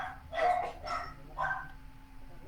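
A dog barks a few times in short bursts, fairly close and clear, in a room during a Spanish-language theology class, with no talking over it.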